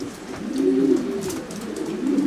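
Racing pigeons kept on the widowhood system coo in soft, low, throaty phrases, a couple of rolling calls close by in a quiet loft with no voices.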